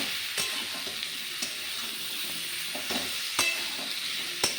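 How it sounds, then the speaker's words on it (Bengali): Shrimp and Malabar spinach are stirred in a sizzling pan for a Bengali chorchori, with a steady frying hiss and several sharp spatula scrapes and clacks against the pan, close and with no talking. "তো নুন দিয়ে আমি ভালোভাবে নেড়ে চেড়ে মিশিয়ে আমি একটু ঢাকা দিয়ে দেবো"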